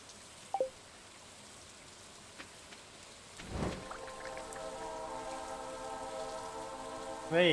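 Steady rain summoned by a rain totem in Stardew Valley hisses as a soft, even wash, with a few sharp drops early on, then a brief whoosh and rising chime-like tones toward the end.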